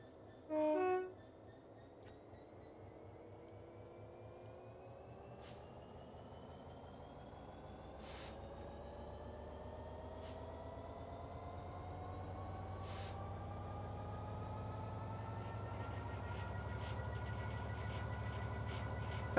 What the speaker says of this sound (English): You can definitely tell the train's working, trying to get going.